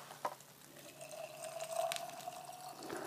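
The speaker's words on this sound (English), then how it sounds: "Fill up the next jar." Tap water pours into a canning jar, a faint steady trickle with a slowly rising tone as the glass fills, heard alone at close range in a quiet kitchen.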